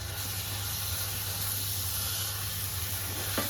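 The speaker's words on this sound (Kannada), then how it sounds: "ಸ್ವಲ್ಪ ಚಿಕ್ಕ ಉರಿಯಲ್ಲಿ ಮಸಾಲೆ ಫ್ರೈ ಆಗ್ತಾ ಇದೆ" Raw masala paste frying over low heat in a pan for prawn biryani gives a steady, even sizzle and hiss that lasts the whole stretch without pause, close and moderately loud, with a faint hum underneath.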